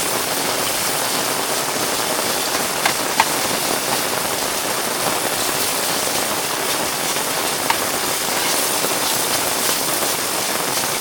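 Steady, dense rainfall pours down during a thunderstorm at a car campsite in Australia, a constant broadband hiss with occasional sharper drops or splashes standing out; no voices.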